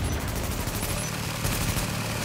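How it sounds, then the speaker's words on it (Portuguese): Rapid bursts of gunfire from the video game The Division rattle on continuously, a dense, loud stream of automatic shots layered over one another. "Nossa, tomei um tiro."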